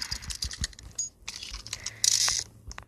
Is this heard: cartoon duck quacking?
no